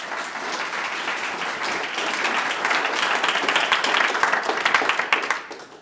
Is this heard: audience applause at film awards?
yes